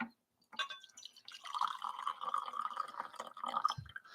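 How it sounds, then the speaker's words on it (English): Brewed coffee is poured from an immersion brewer into glassware, a close, gentle trickling stream with light splashing that rises slightly as the glass fills, ending with a soft knock. "now we're going to pour our elixirs."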